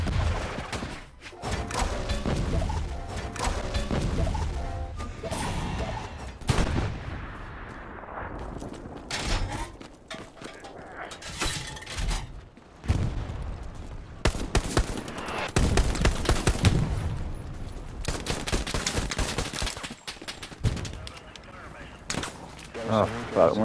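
Gunfire and explosive thuds from a multiplayer shooter video game, with bursts of shots and booms recurring throughout, mixed under frequent excited shouting and talking from players.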